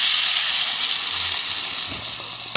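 Ground green salsa sizzles loudly as it hits a hot pot of beef shank stew, a bright, steady hiss of frying liquid with faint stirring clinks near the end.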